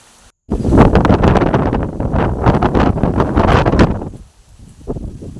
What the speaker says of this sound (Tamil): காற்று பயங்கரமாக அடிக்க ஆரம்பிச்சிருச்சுங்க.